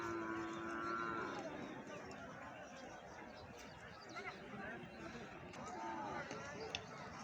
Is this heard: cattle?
yes